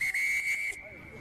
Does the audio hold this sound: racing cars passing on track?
no